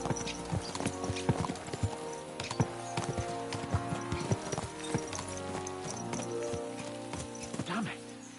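Horses gallop in the medieval video game Kingdom Come: Deliverance II, their hooves making a dense, rhythmic clip-clop over several seconds with rattling tack and a brief whinny.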